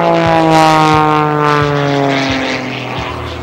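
An Extra 330LX aerobatic plane performing air show maneuvers, its propeller engine droning loud with a steadily shifting pitch, plus rhythmic propeller pulses, heard continuously from the ground.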